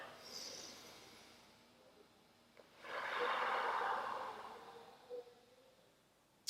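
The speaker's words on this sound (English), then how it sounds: "Inhale. Slowly exhale." A person breathing during an exercise class for pulmonary fibrosis draws a soft inhale, then lets out a longer, airy exhale that swells and fades, faint and close with no talking.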